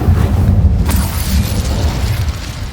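A fire spell cast in a Harry Potter video game bursts out as a loud, dense whooshing roar that fills the whole moment, sustained and close with no talk.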